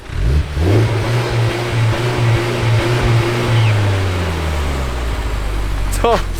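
A Honda car engine with an aftermarket exhaust idles with a steady low drone and a brief rev, loud and close, fading slightly toward the end.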